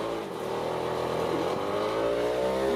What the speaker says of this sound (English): Mojo said that the Jeep is running a lot better since he got those new tires on it.